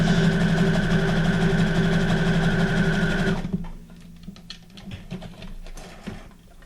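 A sewing machine runs a zigzag stitch for about three and a half seconds, a loud steady mechanical whir with rapid needle clatter, then stops, leaving quieter handling taps and rustles.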